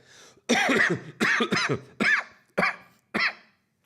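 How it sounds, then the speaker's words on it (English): A series of five or six harsh, hacking coughs in quick bursts, close and fairly loud, separated by short pauses. "still a little bit of coughing sometimes here"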